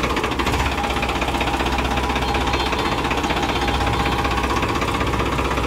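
A Farmtrac 45 tractor engine, 48 or 50 HP, runs steadily during a test drive, a loud continuous diesel rumble with a knocking, vibrating texture that holds constant throughout with no talk.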